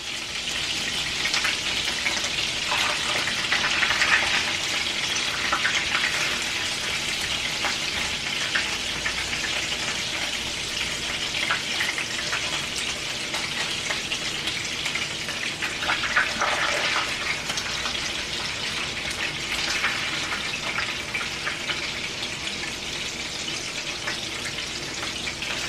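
Turkey burger patties frying in a hot pan, a steady dense sizzle and crackle running unbroken throughout at close range, with no voices.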